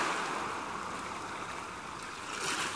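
Ocean waves wash onto the shore in a broad, continuous rushing surf, fairly soft and steady, swelling slightly toward the end.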